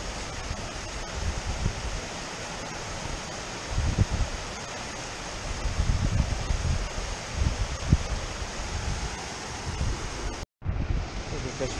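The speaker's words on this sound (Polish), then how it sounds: "Jesteśmy u góry wodospadu." Steady, loud rushing water roars continuously from the top of a waterfall in the Slovak Tatras, broad and hissing, with gusts of wind buffeting the microphone now and then.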